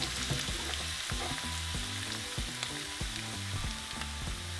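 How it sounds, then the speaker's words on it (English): Tomatoes and onions sizzle loudly in hot oil in a pan for a homemade Mexican pizza, a continuous close crackling hiss broken by regular dull knocks of stirring. "once our oil is hot, we're going to throw in our tomatoes and onions"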